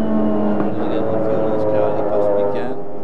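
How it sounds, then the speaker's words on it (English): A Porsche GT race car idles roughly at a Grand-Am sports car race, giving a steady, low, loud rumble throughout with faint higher engine whine over the top. "It didn't sound like the typical Porsche burble as it idles."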